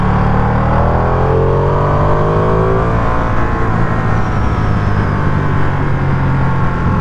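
A Ducati Streetfighter V2 motorcycle accelerates at half throttle. The engine's loud, close drone climbs steadily in pitch for seven seconds under wind rush, with no talking.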